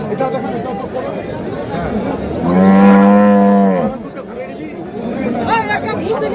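A cow moos loudly once, a long low call in a busy livestock market in Narayanganj, with people chattering and talking around it before and after.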